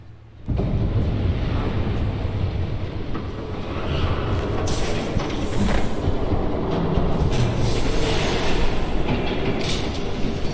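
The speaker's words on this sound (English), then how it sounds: "There's a train coming." A train rumbles past in a Batman video game, a loud continuous roar of rolling wheels and rattling cars that starts abruptly, swells midway and stays dense to the end, with brief metallic screeches on top.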